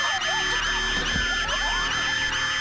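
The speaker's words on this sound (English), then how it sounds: "Jamie had given Marissa a rape alarm to press if anything happened to her" A personal rape alarm in a horror movie gives a loud, piercing, continuous electronic wail that holds steady throughout, with no speech.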